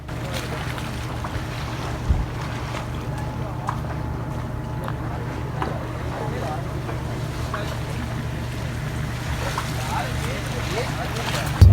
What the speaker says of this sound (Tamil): boat start ஆகிட்டுது